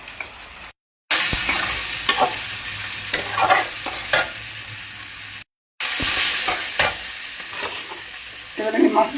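Tomato, turmeric and salt mashed and stirred in a hot frying pan, loud close sizzling with repeated scraping and pressing strokes, broken by two brief silent gaps.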